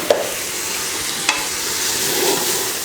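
Chicken pieces being stirred in a pot while making Thalappakatti-style biryani, a steady close scraping and gentle sizzle with two sharp clinks of the spoon against the pot.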